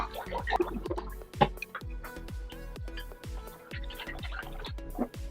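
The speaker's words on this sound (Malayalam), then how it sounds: "വീണ്ടും തണുത്ത വെള്ളം ഒഴിച്ച്" Cold water poured and sloshed over butter being washed by hand for homemade ghee, heard as a series of close, quiet drips, splashes and gurgling trickles in an uneven rhythm.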